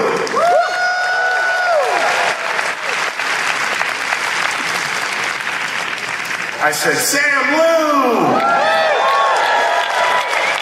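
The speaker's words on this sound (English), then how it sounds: "They're not coming out unless you applaud." A convention panel crowd at WonderCon applauds and cheers steadily throughout, dense and loud, while a presenter's amplified voice calls out a name over the noise.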